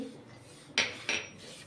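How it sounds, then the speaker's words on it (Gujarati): Almonds and cashews drop into golden-brown roasted semolina in a pan while making barfi, giving two short close clatters of nuts against metal, with no talk. "તો આપણે રવો ગોલ્ડન બ્રાઉન થઈ ગયો છે તો એમાં આપણે ડ્રાય ફ્રૂટ એડ કરશું બદામ કાજુ"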